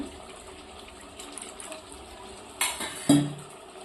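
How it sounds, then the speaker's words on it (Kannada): A bowl of water goes into a yogurt bowl while making restaurant-style chicken biryani, giving a short close splash and pour near the end over quiet kitchen clatter. "ಇದೇ ವಾಟಿ ಒಳಗೆ 1 ವಾಟಿ ನಾನು ನೀರು ಹಾಕೋತೀನಿ ರೀ"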